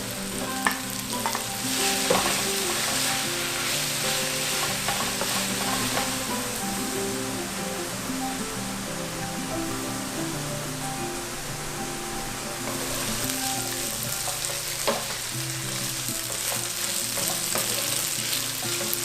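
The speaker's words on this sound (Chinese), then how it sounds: "我们就放入我们的冻豆腐跟板豆腐，把它炒到有点金黄焦脆的样子" Frozen tofu and firm tofu stir-fry in a hot pan until golden, a constant loud sizzle broken by scraping spatula strokes, with no voices.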